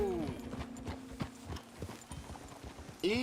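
Close hooves of a horse ridden in Red Dead Redemption 2 clop in an uneven rhythm over soil and rocks, with short vocal sounds near the start and end and a quiet tone underneath.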